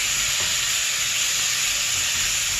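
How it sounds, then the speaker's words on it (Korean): Soy sauce sizzles and hisses steadily in a hot pan as sliced tomato is stir-fried, a close, continuous frying crackle with no talking. "자 이렇게 지글지글 끓을때 우리 썰어놓은 토마토를 같이 볶아주겠습니다."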